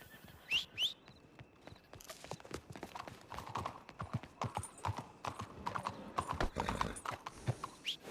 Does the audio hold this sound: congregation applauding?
no